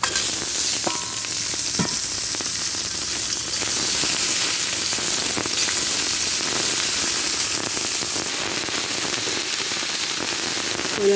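Chopped onions and a dozen green chillies frying in hot oil in a pan for a pointed gourd and fish curry, a loud, dense, continuous sizzle with sharp crackles and pops, close and steady with no talking.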